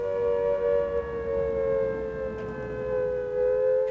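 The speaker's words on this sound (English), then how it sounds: "When you hear these warning sirens" A loud air raid warning siren from 1939 drones with a steady, sustained wail, holding a nearly constant pitch with slight wavering, alone and without voices.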